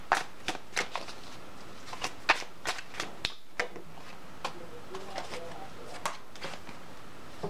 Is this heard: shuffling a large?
yes